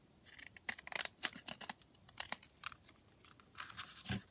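Scissors snip through a paper image cut from an old book, a run of close, crisp cuts and crinkles in uneven bursts with short pauses, no voices.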